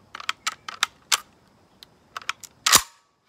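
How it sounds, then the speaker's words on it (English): The bolt of a stainless Ruger Mini 14 rifle being pulled back: a series of small, close metallic clicks, then one loud sharp clack near the end. "So if I pull back on the bolt,"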